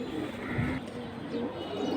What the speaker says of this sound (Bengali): বড় সাইজ হ্যামার পেয়ার।